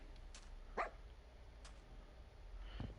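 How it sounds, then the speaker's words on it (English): A dog barks a couple of times indoors at moderate distance, short sharp yelps spaced out over a low background hum. "Stop your fucking barking."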